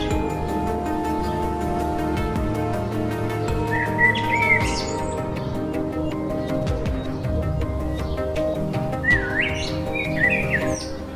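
A kite, a bird of prey, gives thin whistling calls in two short bursts that stand out above a dense, steady background hum.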